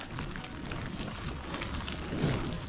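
Rain falls during a bikepacking trip through western Slovenia, a soft, steady patter of drops over a dull outdoor background.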